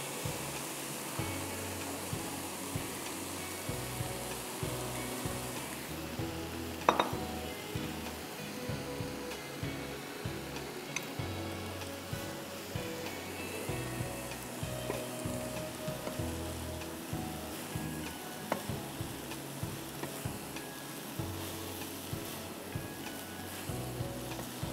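Half a kilo of boiled rice tossed and stir-fried in a hot pan for Chinese vegetable fried rice, giving a steady, continuous sizzle with frequent scraping stirs and one sharp clink near the start.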